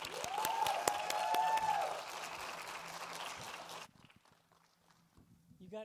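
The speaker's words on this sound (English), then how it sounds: "Give a round of applause for Dr." An audience at a medical research conference in Detroit applauds for a few seconds, a bright crackle of clapping that stops abruptly, leaving a quiet room with faint movement and a voice beginning at the end.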